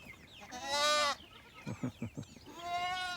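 Goats bleat close by, a long wavering bleat followed by a few short grunting calls and another drawn-out bleat, with no talking.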